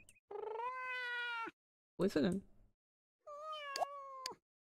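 A cat meows in The Sims video game, with two long, drawn-out meows plus a short rougher yowl between them, fairly loud and close, and a brief spoken question in German is heard.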